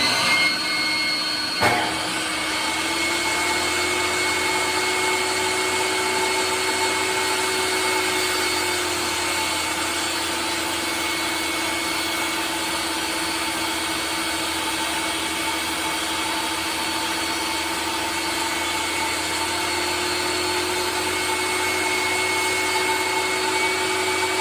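A power saw cuts a 3-inch diagonal through wood for a cigar box guitar in a workshop, a loud steady whine that starts abruptly and holds for over twenty seconds without pause.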